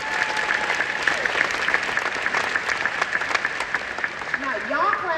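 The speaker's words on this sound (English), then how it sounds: "Now, y'all clapping for these locks" An audience at an awards ceremony claps steadily, a close, lively roll of applause, and toward the end a voice begins speaking over the fading clapping.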